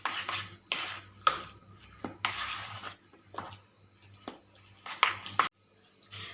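A spoon stirs ground spices and half a spoonful of whole cumin in a bowl while making healthy pakoda, giving a series of short metallic scrapes and clinks against the bowl, close and separated by brief pauses.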